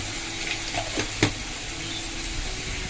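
Cumin seeds dropped into hot oil for tempering in a home kitchen, giving a steady close sizzle with a few sharp crackles and pops, one louder snap standing out, no talking.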